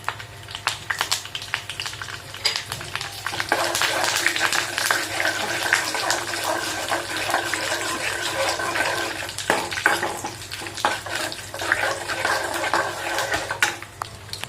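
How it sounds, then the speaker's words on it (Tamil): Mustard seeds and chana dal crackle and splutter in hot oil for a Tamil pottukadalai kulambu, a dense close sizzle with scattered sharp pops running continuously throughout. "கடுகு நல்லா பொரிஞ்சு வரட்டும்."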